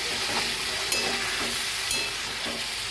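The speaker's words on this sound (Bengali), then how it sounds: "এবার আমি এটা কষিয়ে নেব।" Ground spice paste sautéing in a pan for paneer Benarasi, a loud, continuous sizzle with the scraping of a stirring spoon and a couple of sharp clinks.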